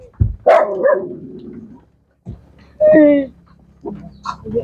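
A dog barks in a few sharp bursts, close by, in the rain, with short gaps and some low whimpering between barks.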